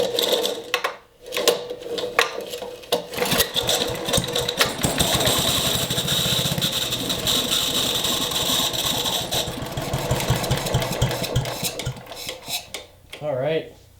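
A 1960s Briggs & Stratton barn-find engine cranks and catches, running roughly with a clattering, rattling idle for several seconds before sputtering down, close and loud.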